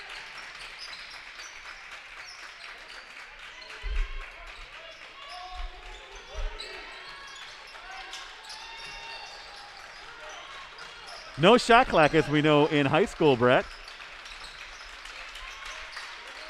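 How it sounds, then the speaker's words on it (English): Freedom fans clap steadily across a high school varsity basketball gym during defense, a continuous patter under play-by-play commentary, with a sharp whistle blast partway through. "you can hear that Freedom, the Freedom fans across from us clapping on the defense here"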